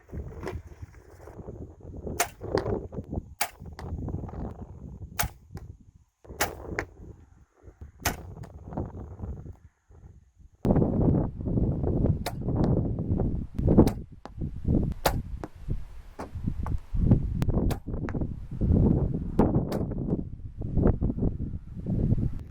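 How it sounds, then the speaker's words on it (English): A bow shooting arrows at a target 30 yards away outdoors, a series of sharp, distinct snaps and thwacks spaced irregularly, with wind and rustling noise between shots and heavier handling sounds in the second half. "this is going to be our second time of shooting at 30 yards"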